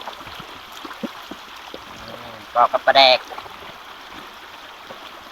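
Water in a small stream flows with a soft, steady rush in the background, and a voice speaks briefly partway through.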